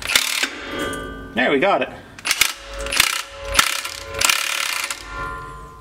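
A DIY brake drum and rotor puller works on a drum, giving a run of loud metallic clicks, clanks and ratcheting bursts with a short ringing squeal between, close up, as someone speaks briefly.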